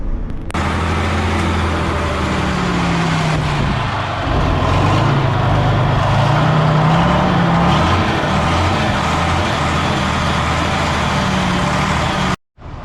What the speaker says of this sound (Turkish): Otobüsümüzü çalıştıralım 88'imiz.